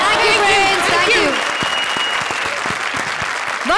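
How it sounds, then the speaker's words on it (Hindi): Loud studio audience applause and cheering on a Hindi comedy show stage, a dense burst of clapping that tapers off over a few seconds while a host speaks over it. "एक बार फिर से जोरदार तालियां"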